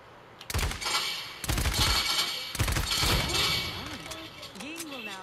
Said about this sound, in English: Your primary weapon is your assault rifle.